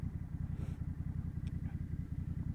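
A Honda Rebel 1100 motorcycle engine pulses with a rapid, steady low throb while riding, heard faintly and continuously with a little wind noise.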